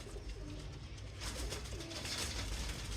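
A dub-tailed pigeon with a broad, wide-spreading tail coos softly, with low burbling calls half buried under steady broadband background noise.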